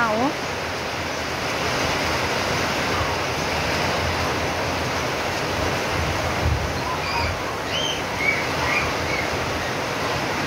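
Heavy typhoon wind roars steadily with a dense hiss of rain, a continuous stormy wash broken by faint gusts and a few high squeaks.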